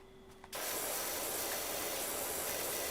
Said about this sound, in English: Spray the toy car for the 4-year-olds.